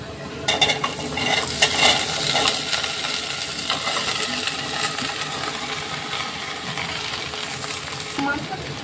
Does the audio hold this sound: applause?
no